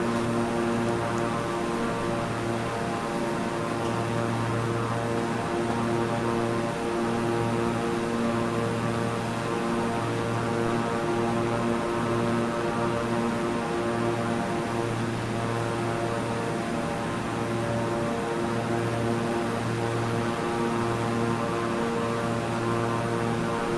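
Propeller airplane engine in a flight simulator game, a steady droning hum with a faintly pulsing low tone, held at constant loudness for the whole stretch with no talk.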